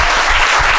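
Audience applause at an Indian poetry recital rings out as a brief, loud burst of dense clapping with no voice over it.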